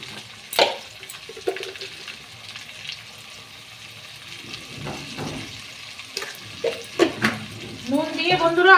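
Spices frying in a pan for duck egg curry, stirred with salt added, giving a soft sizzle with intermittent scraping and clinking stir strokes that grow busier toward the end; no talk.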